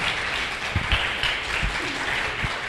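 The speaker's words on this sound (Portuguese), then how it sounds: "Uma salva de palmas para esses dois homens poderosos aqui." A church congregation applauds during a Sunday celebration service, a steady roar of many hands clapping at moderate distance, with a few low thumps scattered through it.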